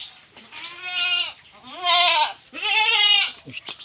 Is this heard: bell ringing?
no